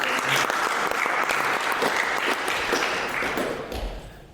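An audience applauds at a trombone retreat with steady, dense clapping from many hands that fills the room for several seconds. The applause fades slightly toward the end.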